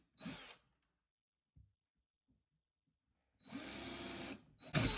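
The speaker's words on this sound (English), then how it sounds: "let's go ahead and pre-drill a couple of holes" A power drill pre-drilling holes in wood whirs in two bursts, a short one at the start and a longer one near the end, with a few faint clicks in the quiet between.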